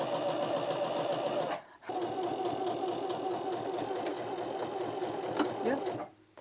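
A Feiyue FY e350 sewing machine sews a rick-rack stitch, a steady close mechanical whir and rapid rhythmic needle clatter that pauses briefly once, then stops near the end.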